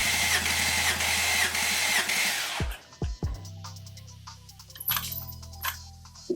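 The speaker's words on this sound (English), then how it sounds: "So I'm gonna go crank it over 9 times" A 3.0 TFSI engine in an Audi Q7 is cranked over during a compression test. Loud steady churning gives way to a few sharp knocks and clicks, then a lighter mechanical whir with intermittent ticking, close up and without speech.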